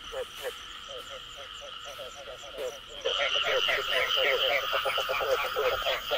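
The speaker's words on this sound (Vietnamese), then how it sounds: "Đấy, ông ếch ông kêu ngay ở vườn cây này" A frog croaks in a home garden near the gate during the rainy season, with rapid pulsing croaks in repeated runs that grow louder and denser halfway through, close by.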